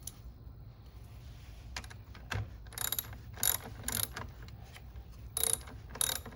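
A car battery terminal connection is tightened with a ratchet, giving short bursts of close, crisp clicking separated by quiet pauses, with no talking.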